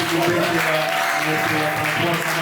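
A church congregation claps and cheers at an evangelical gathering, loud dense applause throughout with voices and a sustained tone mixed in.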